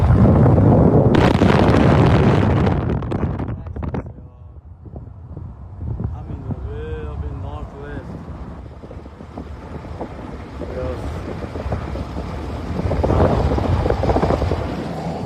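Strong wind gusts outdoors near oil pumps in Hermleigh, Texas, roaring and buffeting loudly against the microphone throughout, with faint voices briefly audible in the middle.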